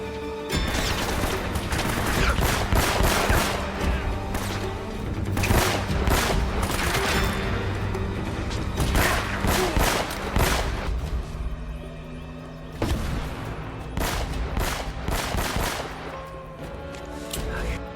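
A silver 1911 pistol fires in Uncharted: Drake's Fortune amid a busy gunfight, with rapid bursts of sharp shots, explosions and impacts over background music while someone talks over it.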